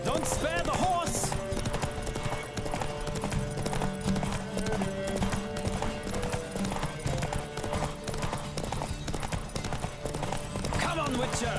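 A horse gallops hard through a race in The Witcher 3, its quick, continuous hoofbeats thudding steadily over game music, with shouting voices and brief neighs woven through.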